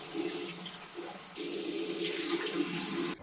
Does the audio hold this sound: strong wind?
no